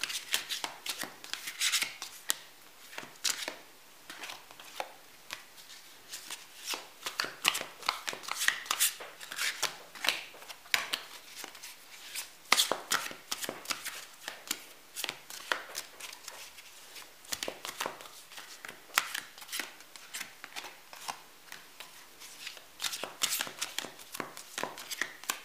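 Tarot cards are shuffled by hand in close, quiet bursts of crisp riffling and slapping, coming in uneven repeated waves with short pauses between them.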